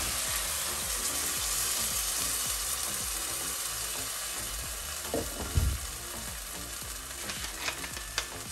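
Coca-Cola is poured over chicken wings in a hot pan, making a loud, continuous sizzle and bubbling with occasional stirring clinks near the end, close and without speech.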